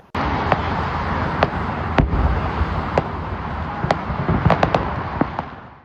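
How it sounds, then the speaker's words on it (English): Fourth of July fireworks burst at a distance, scattered sharp cracks and pops over a steady crowd and traffic rumble. "we did get to see the 4th of July fireworks, so here's that for you"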